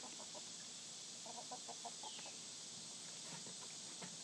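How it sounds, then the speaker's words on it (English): Backyard hens give soft, scattered clucks, with a short burst of rapid clucking in the middle. The calls are faint and distant over steady background noise. "We do have a chicken named Pepper"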